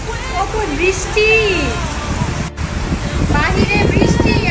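Rain falls outside a house as a steady, dense hiss, with a voice sliding through melodic tones over it.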